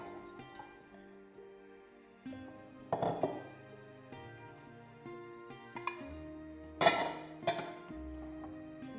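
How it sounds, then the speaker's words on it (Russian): Pots and dishes clink and clatter, with metallic taps and a couple of louder knocks as prepared vegetables for pickled jalapeños are scraped and moved into a big pot. "Беру большую кастрюлю и все это перекладываю сюда."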